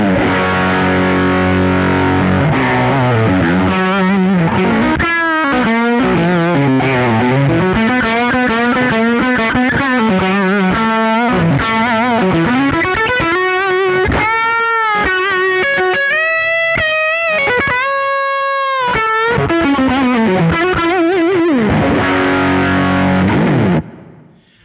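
Heavily distorted electric guitar played through Victory amplifier profiles on a Kemper, with a touch of reverb, runs loud and continuous: chugging riffs, sustained chords and bending single-note leads, with no talking.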